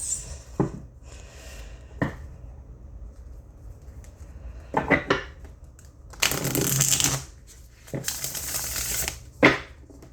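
Tarot card deck on thick cardstock being shuffled: several separate bursts of riffling and crisp card flicks, close and fairly loud, with two longer riffle shuffles near the end between quiet pauses.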